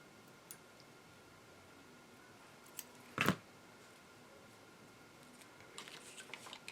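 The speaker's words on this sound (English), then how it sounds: "Let me cut off this piece of thread." Scissors snip through a piece of thread during a craft project, one quick close cut in an otherwise quiet room, followed by soft light handling noises.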